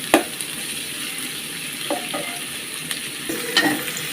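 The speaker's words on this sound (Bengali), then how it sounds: "পেঁয়াজগুলো লাল লাল করে ভেজে নিতে হবে।" Onions fry in hot oil in a pan, a steady bright sizzle throughout with a few sharp scrapes and knocks as they are stirred, close and clear with no voices.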